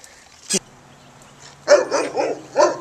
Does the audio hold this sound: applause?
no